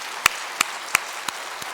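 A handful of slow, separate claps ring out at even intervals during a congregation's women's mission group worship service in a church, then fade away, with no talking.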